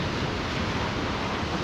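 Ocean waves breaking on shore make a loud, dense roar of surf and wind rush, steady and close throughout.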